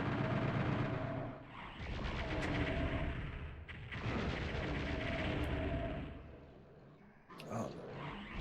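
A chaingunner fires in Doom 2 on original PS1 hardware. The gunfire comes in loud, dense bursts, each lasting a couple of seconds, separated by brief pauses.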